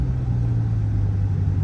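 Deep, steady stock exhaust rumble from a running 1964 Chevrolet Nova, strong low-end drone holding constant throughout, close by with no talking.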